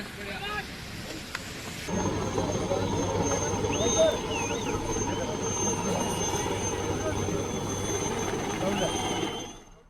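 The low, rhythmic thump and whine of a helicopter drones steadily for several seconds, with voices talking over it before it fades.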